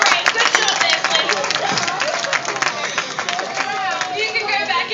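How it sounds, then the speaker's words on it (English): An audience at a beluga whale show claps and chatters for a volunteer named Flynn. Loud, busy applause and crowd noise mix with voices throughout. "give Flynn a round of applause"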